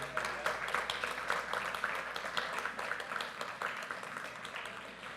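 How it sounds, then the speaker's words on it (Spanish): A church congregation applauding during a Spanish-language sermon, a dense, steady patter of many hands clapping at moderate level, somewhat distant and roomy, continuing evenly for several seconds without talk. "Aplauda al Señor."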